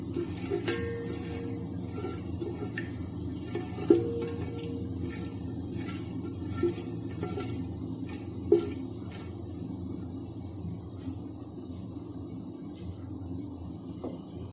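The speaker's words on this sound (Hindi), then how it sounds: "और ज़ीरे का ऐड करने के बाद हम इसको हल्का सा भूनेंगे ताकि ऑयल के अंदर इसका जायका आ जाए।" Cumin seeds lightly frying in hot oil for a kofta biryani, a steady low sizzle with a few faint stirring clinks, close and fairly quiet throughout.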